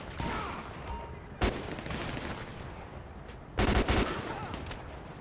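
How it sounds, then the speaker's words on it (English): Gunfire in GTA 5 during a police gang-unit shootout: a steady rattle of rapid shots throughout, with two sharp, loud bursts standing out, one brief and one longer. "I'm trying to get a shot"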